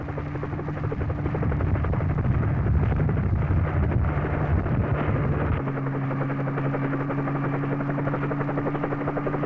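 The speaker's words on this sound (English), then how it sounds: "The president then boarded a nearby helicopter" A helicopter at Cape Canaveral drones steadily nearby, its loud rotor thrum and engine whine continuous throughout, shifting slightly in pitch partway through.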